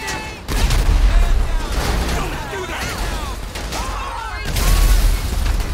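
A tank cannon in Grand Theft Auto 5 fires heavy booming blasts, one near the start and another near the end, over a steady loud rumble of engine and mechanical noise.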